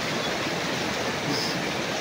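Muddy floodwater from Mount Apo rushes down the Caños River floodway in Digos City, a steady, loud, unbroken roar of churning water with no voices.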